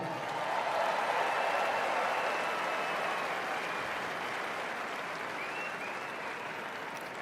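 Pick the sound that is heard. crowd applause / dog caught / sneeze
crowd applause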